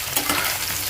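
Mushrooms and chopped tomato stir-fry in a hot pan, sizzling close up and loud with quick stirring scrapes in a short burst.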